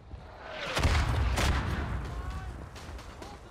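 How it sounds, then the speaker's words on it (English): A mortar shot in the Verdun video game, dropped down a trench: a single muffled blast swells and then slowly decays into a distant rumble, with a second burst close behind it and faint game noise around. "I'm gonna drop a mortar shot down the trench just a tad bit"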